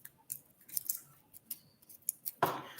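Garlic being peeled by hand: sparse, faint dry crackles and papery snips, close and quiet, ending on a sharper crisp snap.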